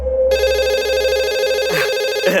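A telephone rings with a steady electronic trill, close and loud, sustained for a couple of seconds.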